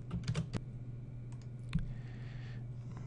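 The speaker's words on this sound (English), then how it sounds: "Let me type a title." A slide title is typed on a computer keyboard in PowerPoint 2013, with a few quick clicking keystrokes near the start, a sparse tap later and a low steady hum underneath.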